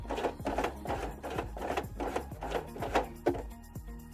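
A hand-cranked sewing machine stitching, a rhythmic train of about a dozen mechanical thumps and rasping strokes at a steady pace, close and clear, with no talking.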